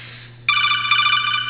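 A phone rings for an incoming call with a bright, warbling electronic ringtone that cuts in sharply and pulses steadily, loud and close.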